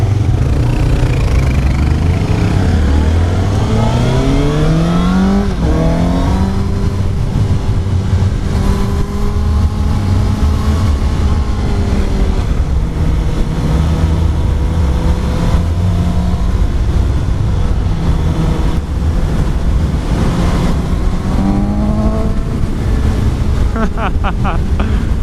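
A 2018 Suzuki GSX-S750 engine on a test ride, loud and close with rising and falling revs through gear changes, wind rush over it and occasional talk.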